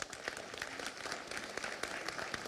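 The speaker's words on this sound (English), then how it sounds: "Round of applause, please." An audience at a town hall gives a brief round of applause, a soft, steady patter of clapping at moderate distance with a faint murmur of voices.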